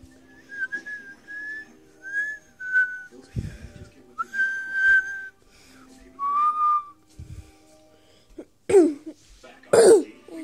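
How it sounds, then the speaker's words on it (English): A person whistles a string of short, clear held notes in a quiet room, broken up by a couple of coughs and throat clearings, ending in breathy, louder bursts. "This is how you whistle."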